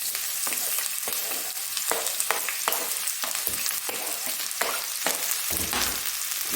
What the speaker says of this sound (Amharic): ዘይት እንጠብሳለን።